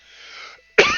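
A man on a stream coughs once, a sharp and loud burst right at the microphone, after a softer hissing exhale.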